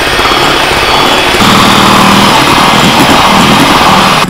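An electric mixer runs at top speed whipping egg whites and sugar for a strawberry shortcake, a loud, close, continuous whirring drone with a slight shift in tone partway through.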